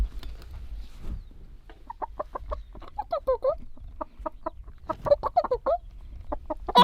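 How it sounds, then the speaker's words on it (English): Close chicken clucking in short bursts, several quick clucks in a row, with brief pauses and quiet background. "It's a chicken, Evie."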